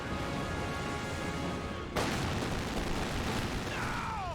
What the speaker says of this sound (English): We've got the M16, Soviet M16 firing away against the Grenadiers.